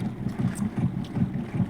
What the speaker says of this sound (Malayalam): എത്തി ബോട്ട് സ്റ്റോപ്പ് ആക്കാൻ പോവാണ്.